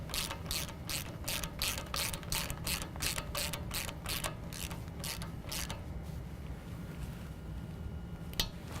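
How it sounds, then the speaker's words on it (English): A ratchet with a 13mm socket clicks rapidly in repeated bursts as it tightens a CV shaft nut on a 2015-17 Ford F-150 4WD, close and clear, then slows to a few isolated clicks without any talk. "Now I'm going to use a 13mm to tighten down the CV shaft nut"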